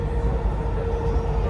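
A Dubai Metro train rumbles along between stations, with a steady low running drone and faint tonal hum heard from inside the carriage.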